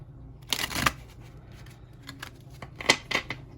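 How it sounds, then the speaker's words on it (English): Two bursts of shuffling a light oracle card deck, crisp riffling flutters up close, separated by a short quieter pause with light handling noise. "I quite enjoy shuffling with this deck"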